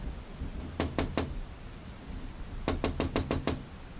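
Knocking on a bedroom window at night: three sharp raps, a pause, then a faster run of six knocks, close and fairly loud over a quiet background with no talking.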